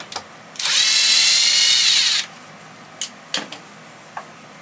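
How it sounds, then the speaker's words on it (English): A power drill whirs steadily for nearly two seconds while re-drilling into wood cabinetry, then stops, followed by a few sharp clicks and taps nearby. "I'm going to pull that one out and I'll re-drill."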